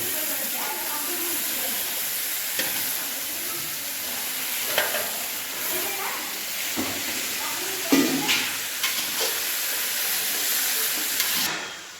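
A spoon scrapes and stirs through food sizzling in a pot, with steady frying hiss and a few sharp clanks against the metal.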